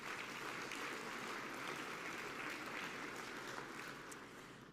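Conference audience at a summit in Baltimore clapping for a speaker, a dense continuous applause from a crowd at moderate distance that tapers slightly at the end, with no speech.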